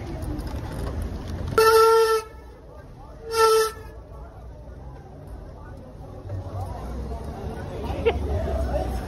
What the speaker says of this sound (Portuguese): eu falei que o freio até serve de buzina